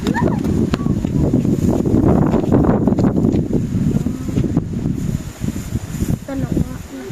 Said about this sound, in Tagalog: nakakatakot dahil dahil malakas din ang hangin dito guys